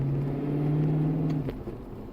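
Car exhaust fitted with an X pipe holds a steady low droning note for over a second, then drops away into a quieter, rougher rumble, close and continuous.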